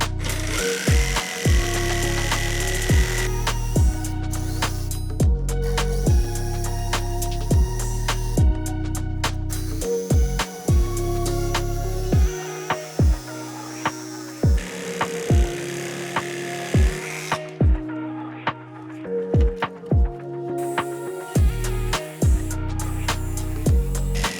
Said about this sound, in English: Myself, I'm gonna use a Sawzall